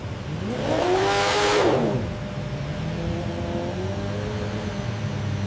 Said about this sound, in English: The engine comes alive with power.